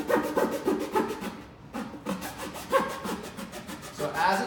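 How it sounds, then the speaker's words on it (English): A cardboard cutter's saw blade cuts straight up and down through cardboard, producing a close, steady rasping saw stroke rhythm with a brief pause partway through. "I'm going to place this cardboard cutter in the middle, and I'm going to cut straight up and down."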